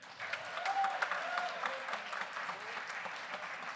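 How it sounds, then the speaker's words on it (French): Audience applause fills a school big band concert evening, dense steady clapping at close range with a few cheers and whistles rising over it, holding for several seconds. "faites un tonnerre d'applaudissements"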